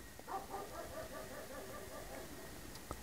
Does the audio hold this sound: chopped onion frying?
no